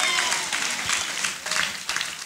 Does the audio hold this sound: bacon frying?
no